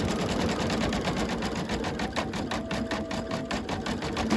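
A sewing machine runs steadily at close range, stitching brown thread over black on a snowman quilt block, a continuous even mechanical whir for the whole stretch.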